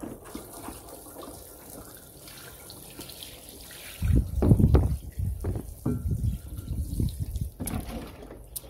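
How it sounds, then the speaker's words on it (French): Low-pressure water rinses car wheel rims during a rim-cleaner test: a soft background hiss, then a louder, splashing spray that gushes and sputters in uneven bursts, close by, with no talking. "on passe au rinçage sans haute pression."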